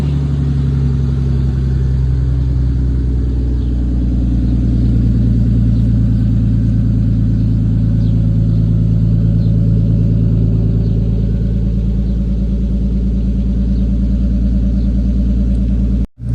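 A Nissan R33 Skyline engine idles steadily with a deep, loud, continuous rumble and a faint swell in revs partway through, close by, before cutting off abruptly at the end.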